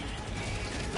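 A gun magazine is reloaded in the video game Helldivers 2, heard as a quick sequence of mechanical clicks and ratcheting metal catches at moderate volume, ending with a brighter snap.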